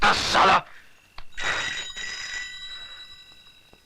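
A telephone rings in a Hindi action film, a loud burst followed by a bright electronic ring with sustained tones that trails off, set in a quiet room.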